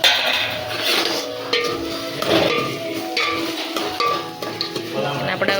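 Onion and tomato stirred in a pan, busy scraping and clinking of a spoon against the pan over a continuous frying sizzle, fairly loud and close, with no talking.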